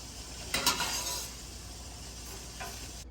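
French fries frying in hot oil give a steady, soft bubbling sizzle with a couple of brief utensil clinks, close and quiet.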